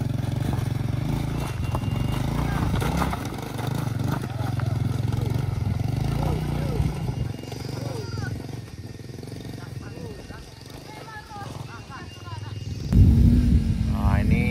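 A Honda Vario scooter strains up a wooden ramp, its engine droning and revving in the background under near-constant talk, with a louder clattering surge near the end.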